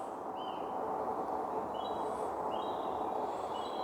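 Woodland birds give faint, thin chirps and short whistled calls scattered over a steady, broad background rush, with no talking.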